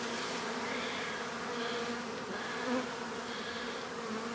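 A dense, steady buzz of many honey bees droning together around a hive, close and continuous, with no voices.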